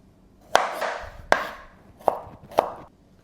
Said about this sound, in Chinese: 我们需要几瓣蒜，我们要把蒜切碎